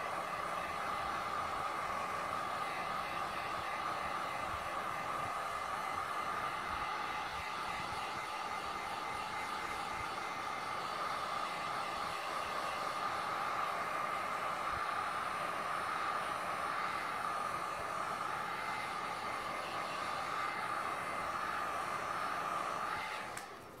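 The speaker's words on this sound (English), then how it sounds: "Anyway, I've got my heat gun now." Heat gun blowing steadily over epoxy resin tinted with Le'Rez tints and gold paste, a constant close airy whoosh with a hum underneath, running unbroken for the full stretch and cutting off right at the end.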